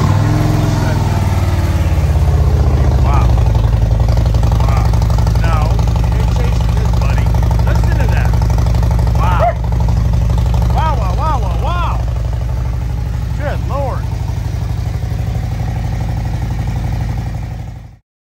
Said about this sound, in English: And this thing is very loud.